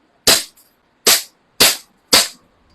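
Four sharp, loud pops from an airsoft gun, an SRC or Beretta, fired one at a time at uneven intervals about half a second apart, close by and with no talk over them.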